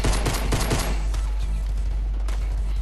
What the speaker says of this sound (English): Let's reload. Like, this is how it reloads.